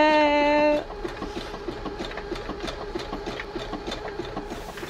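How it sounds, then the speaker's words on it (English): Sewing machine running while stitching a skirt: a loud steady whirring burst at the start, then the motor drops to a rapid regular ticking of the needle for the rest. "And just that fast, I done sewed me a skirt"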